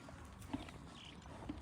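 A stallion with freshly fitted horseshoes walks, its hooves giving two distinct clip-clop strikes over a low, steady outdoor background.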